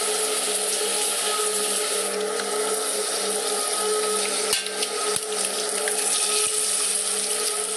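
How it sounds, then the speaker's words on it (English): A shower runs in a prison escape video game, a steady, even rush of spraying water that holds at the same level throughout, with no voices. "taking a shower was like heaven."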